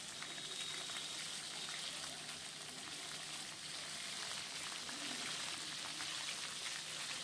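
Okra frying in mustard oil in a kadai, a steady close hiss and sizzle that runs unbroken throughout with no voices.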